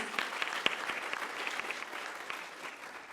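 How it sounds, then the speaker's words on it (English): Conference attendees give the panel a round of applause at the close of a trade discussion, scattered claps that sound fairly distant and soft, fading gradually over a few seconds. "Ladies and gentlemen, a round of applause for the panelists, please."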